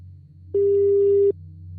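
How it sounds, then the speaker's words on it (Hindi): A single steady electronic telephone tone sounds for under a second over a low hum, like a line cutting off. "फोन कट गया।"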